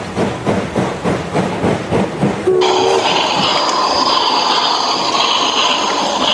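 Toy train locomotive being handled in a children's toy vehicle play session: a rhythmic series of soft clattering knocks for a few seconds, then a steady whirring motor-like hum with a brief tone, fairly close and loud, no talking.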